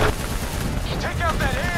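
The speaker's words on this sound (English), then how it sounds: "I'm getting shot by something from behind." Gunfire in the Black Ops 3 campaign: a dense, continuous stream of shots and impacts runs through the whole stretch, with game sounds layered on top and no one speaking.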